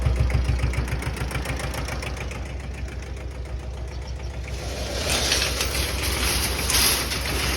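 Kubota L1801DT four-wheel-drive tractor, an older imported unit, running its diesel engine with a steady knocking chug at close range, the pitch and loudness climbing as it revs up near the end.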